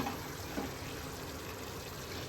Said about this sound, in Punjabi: ਇਹ ਮੈਂ 1 ਲੀਟਰ ਦੇ ਕਰੀਬ ਦੇ ਵਿੱਚ ਪਾਣੀ ਪਾ ਰਹੀ ਹਾਂ